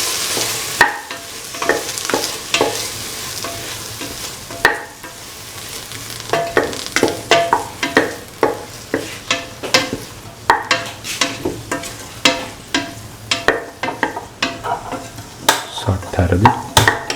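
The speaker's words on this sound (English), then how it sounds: "Keep on sauteing." Cauliflower and bottle gourd sautéed in a pan for a vegetable stew, with steady sizzling frying under repeated close scrapes and stirring knocks of a utensil against the pan, no talking.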